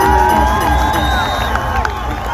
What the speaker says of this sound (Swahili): Sigia Churchill makofi